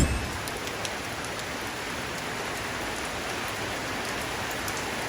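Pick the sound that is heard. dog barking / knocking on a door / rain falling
rain falling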